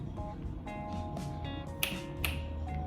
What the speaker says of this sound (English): it's snapping the fingers